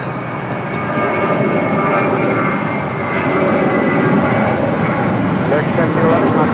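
A jet airliner takes off from runway 25 right, giving a loud, steady roar of engine noise that builds slightly and holds for several seconds, with faint voices underneath.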